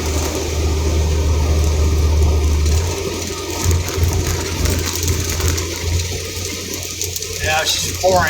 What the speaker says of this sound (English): Yeah, she's pouring.